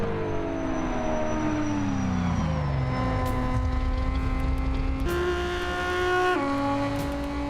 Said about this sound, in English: The cars are so loud when they go by.